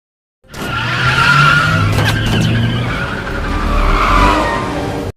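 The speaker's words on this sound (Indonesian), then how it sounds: "mereka pun segera bergegas pergi dengan menggunakan sebuah mobil limusin" A limousine speeds off with loud skidding, squealing tires over a revving engine, the screech rising, easing and swelling again for several seconds before cutting off abruptly.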